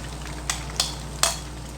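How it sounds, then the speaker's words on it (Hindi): A yogurt and spice mixture hits a hot pan of fried spices for Delhi-style chicken korma, giving a steady close sizzle punctuated by three sharp splattering bursts. "अब हम इसमें दही का मिक्सचर ऐड कर रहे हैं"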